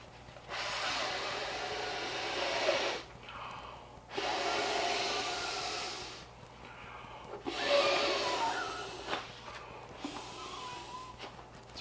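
Three and a half long, forceful breaths blow up an inflatable camp pillow through its valve, each a loud breathy rush lasting a couple of seconds with short pauses between, heard up close with no talking.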